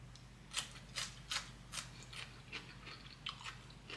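Crunchy pounded fiddlehead fern salad is chewed close up in a steady series of crisp, rhythmic bites, about eight of them over a low constant hum, with no talking.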